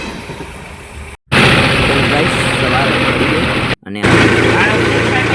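A new tractor's engine idles steadily and loud, a low continuous rumble broken by two brief cuts, with a person speaking over it.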